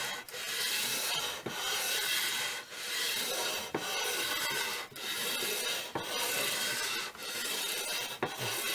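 An old guitar fretboard is filed and sanded with long back-and-forth strokes, a loud steady rasp repeating about once a second with brief pauses between passes.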